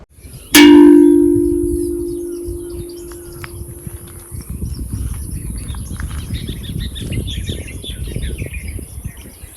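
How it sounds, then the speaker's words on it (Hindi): A sharp metallic ring rings out and slowly fades, followed by faint, scattered bird chirps in a very quiet ashram outdoors. "चिड़िया की चहचहाना तो सुनाई दे रही है"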